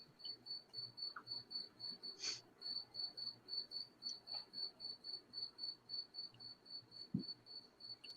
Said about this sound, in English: the crickets are going off